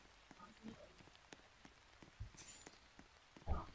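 Rain falls steadily outdoors, a soft continuous patter of drops on surfaces with a few louder splashes and brief faint background sounds, no speech.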